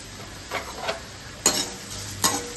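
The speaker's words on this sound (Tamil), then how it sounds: "எண்ணெய் ஊற்றிருக்கோம், அதில் நம்ம கட் பண்ணி வச்சுருக்கேன் வெங்காயத்தை போட்டுருவோம்" Chopped onions sizzle in hot oil while being stirred, a faint steady hiss broken by a few sharp scraping strokes of the spoon in the pan.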